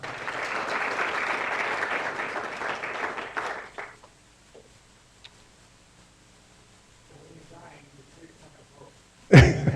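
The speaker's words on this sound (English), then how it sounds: "thank you for the applaud." An audience applauds after a talk on palliative care, a few seconds of steady clapping that fades out into near quiet, followed by a brief loud knock.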